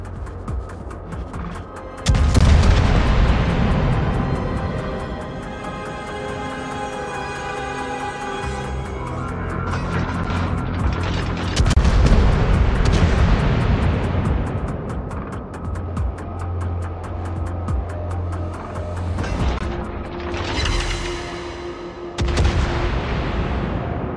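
Heavy cruiser guns fire in World of Warships from the Saint Louis, a tier XI French cruiser. Several loud, booming salvos land a few seconds apart, each followed by a long rumbling tail over a constant engine drone, with no voices.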